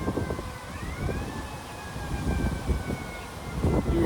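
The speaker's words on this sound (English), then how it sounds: "You hear it, ambulances" An ambulance siren wails through a city street outdoors, its rising and falling tone steady and moderately distant above low traffic rumble, with no talking.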